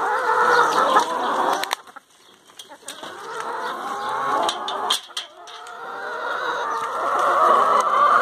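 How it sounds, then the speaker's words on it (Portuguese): A flock of hens on a farm with corn scattered on the ground clucks and chatters steadily at close range, loud and continuous, with no one talking. "Olha aí, quanta galinha bonita, né?"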